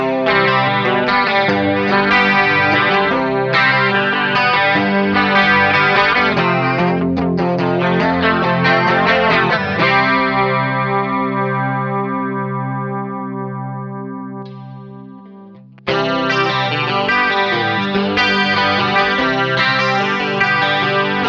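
Paul Reed Smith CE24 electric guitar in whale blue played through chorus and distortion effects, sustained chords and melodic lines ringing close and loud throughout, with a brief fade before playing resumes.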